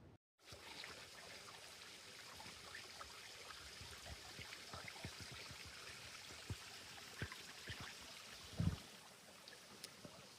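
A river flows beside a mountain hiking trail, a faint steady trickling and babbling with small splashes and one brief louder knock near the end.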